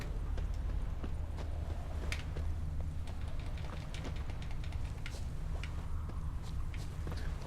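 Horse hooves clip-clop in The Witcher 3 video game, a steady, rhythmic trot of sharp clicks over a low rumbling background.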